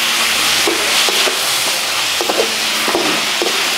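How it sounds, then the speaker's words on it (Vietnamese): Hotpot ingredients stir-fry in a pan with a steady soft sizzle, broken by repeated scraping stirs of a utensil at an uneven rhythm, fairly close and moderately quiet. "Xào trước cho nó nhanh mềm, ăn luôn không đói."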